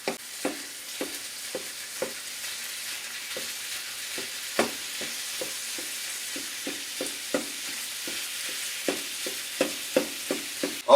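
Mild Italian sausage sizzles and fries steadily in a pan while a wooden spoon breaks it up, giving repeated sharp scraping knocks at an irregular rhythm over the continuous sizzle, close and clear with no talking.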